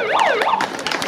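A wailing ambulance siren sweeps up and down in pitch, loud and close, with a few sharp clicks over the end.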